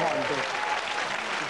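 Studio audience applause on a 1993 Channel 4 television show, a dense continuous wash of clapping with brief voices over the start.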